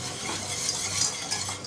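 A utensil stirs and mixes food in a pot with a continuous scraping, clinking swish of metal against the pan, close and steady with no talking.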